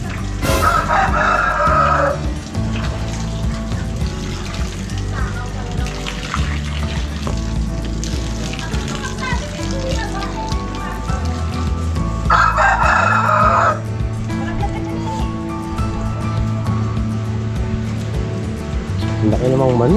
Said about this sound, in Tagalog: Ang laki namang manok.